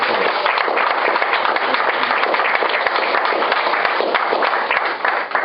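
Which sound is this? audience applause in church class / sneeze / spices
audience applause in church class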